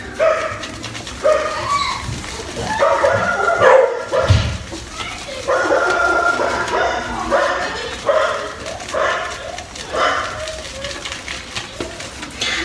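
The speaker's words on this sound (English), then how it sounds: "Got my brother-in-law's dog staying with us at the moment as well." A visiting dog barks and yips in scattered bursts indoors, fairly close and loud, with someone talking intermittently between barks.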